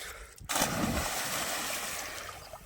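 Someone jumps into a river, a sudden splash followed by a couple of seconds of churning water and rushing noise, fairly close and without talk.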